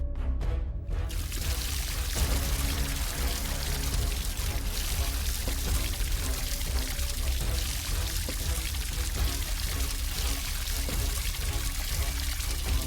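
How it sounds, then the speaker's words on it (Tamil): Water poured in a continuous steady stream for several seconds, loud and close, with faint voices in the background. "அந்த தண்ணி எடுத்து ஊத்து"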